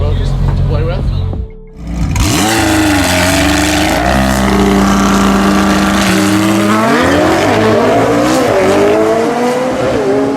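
A highly modified Nissan GTR at a drag racing event revs loudly and accelerates hard, its engine pitch sweeping upward after a brief lull. The roar is close and dominant, and speech mixes in around it.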